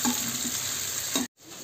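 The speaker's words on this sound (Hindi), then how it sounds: "यहाँ पर हम कुछ और प्याज और लहसुन को फ्राई कर लेंगे" Onion and garlic frying in a pan for karai paneer, a steady close sizzle with faint stirring, broken by a brief near-silent gap just before the end.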